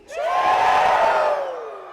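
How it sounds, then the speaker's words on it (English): A luau crowd shouts a loud, unison "chihu" cheer, a single drawn-out collective yell that swells quickly and then slowly trails off. "On the count of 3, I want everybody in this room to say chihu."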